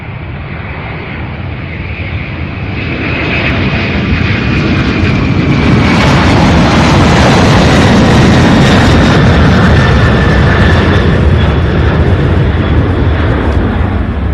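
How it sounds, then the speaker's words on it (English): A UPS cargo jet takes off from Louisville International Airport bound for Portland, Oregon, its loud roar building over the first few seconds, then holding a powerful, close, sustained thunder with a faint whining tone sweeping downward. "Heading to Portland, Oregon with UPS flight 2974."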